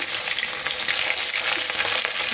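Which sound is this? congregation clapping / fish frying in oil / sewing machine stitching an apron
fish frying in oil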